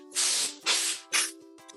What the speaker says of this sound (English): So I get a can of compressed air.